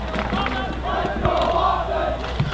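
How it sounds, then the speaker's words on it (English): Crowd noise from the stands at a high school football game, a steady broad roar of cheering voices that swells slightly in the middle, continuous and moderately loud throughout. "Boys are out there cheering them on."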